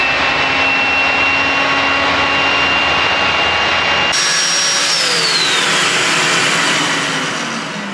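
A Festool Domino joiner runs continuously with a loud, high motor whine, its pitch shifting upward partway through and then holding, heard up close with no talk.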